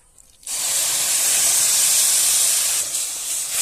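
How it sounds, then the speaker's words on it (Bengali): Water poured onto fried semolina in a hot pan sets off a loud, sustained steam hiss that bursts in after a brief quiet and holds steady for several seconds, close and alone. "এক বাটি জল মাপ করে দিয়ে দিচ্ছি, সুজির মাপ করে"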